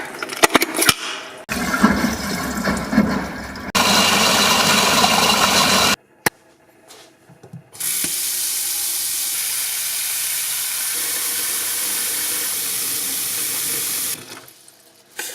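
Warm water runs steadily from a tap while items are washed beneath it, a loud broadband rush in long stretches with brief pauses and clatter between them.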